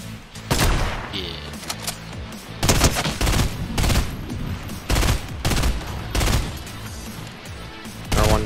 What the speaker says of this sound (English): The twin mag's my new rifle.